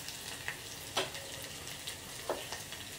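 Cumin, mustard seeds, fenugreek and dried red chillies fry in foaming coconut oil for a tempering. Soft steady crackling is broken by a few distinct sharp pops spaced about half a second apart.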